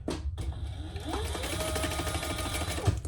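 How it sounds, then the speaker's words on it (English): Sewing machine back stitching along the side of a quilt pattern, a steady, fast mechanical whir with a brief pause near the start, close and moderately quiet, with no talking. "So I'm going to start on the side over here so I can back stitch."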